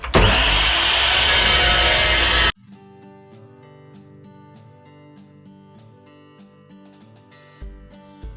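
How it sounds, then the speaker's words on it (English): A saw cuts through square metal tubing for a Myford ML7 lathe project, loud and harsh for about two and a half seconds before stopping abruptly, leaving quieter workshop hum and faint clicks. "I've cut the square tubing to where I'm happy with."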